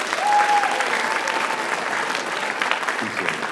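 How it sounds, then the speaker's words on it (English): An audience at a school writers expo claps steadily for a few seconds, a dense close patter of applause with no talking. "Give him a round of applause."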